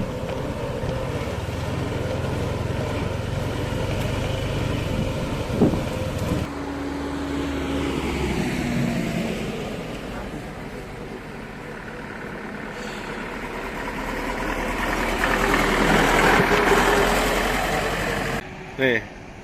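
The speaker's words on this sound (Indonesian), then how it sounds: "Truk kumplong amfibi." A homemade amphibious dump truck's engine idles and chugs steadily nearby on a river, rising and falling in intensity, with occasional voices in the background.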